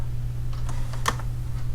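Computer keyboard keys tap several times in quick succession, one sharper press standing out, close over a steady low electrical hum, with no speech.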